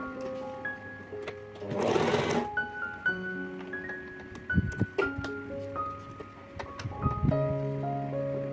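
A sewing machine stitches the lining of a crocheted wallet in short bursts of motor whirring, with a louder rushing patch near the start and scattered clicks and handling noises between runs.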